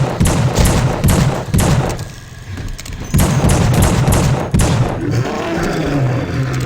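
Rapid gunfire from the horror shooter The Suffering, loud bursts of repeated shots in quick succession, pausing briefly mid-clip before resuming, with a low rumbling background.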